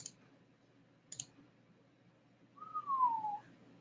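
A couple of faint, sharp mouse clicks sound close in a quiet room, followed by a short rising whistle-like tone.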